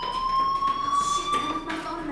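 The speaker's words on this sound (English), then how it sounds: "do you hear that fire alarm?" Fire alarm ringing in the video game Life is Strange, a steady high electronic tone held throughout at moderate loudness, with faint background noise beneath it.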